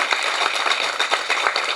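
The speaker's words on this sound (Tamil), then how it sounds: "ஆகவே கொஞ்சம் எழுந்திரிச்சு உட்காந்து ஐயாவை வாழ்த்துவதற்கு ஒரு முறை கைதட்டுங்க மனமாறு" An audience at a 61st birthday and book launch celebration for Karunakaran claps together, a brief burst of lively, even applause from many hands close by.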